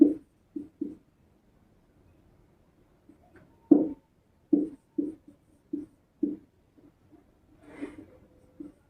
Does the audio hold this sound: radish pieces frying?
no